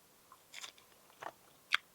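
Crunchy bunya nuts being bitten and chewed up close, three distinct crisp crunches spaced over a couple of seconds against near silence.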